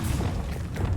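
Explosive Confringo and Bombarda spells cast in Hogwarts Legacy, heard as a steady rumbling burst of booming, thudding blasts that fills the whole second with heavy low-end.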